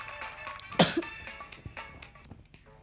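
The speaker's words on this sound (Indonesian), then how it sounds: "Tunggu guys, gua batuk dulu." A single sharp cough bursts out near the start, close and fairly loud, then trails into quiet background noise with faint rustles.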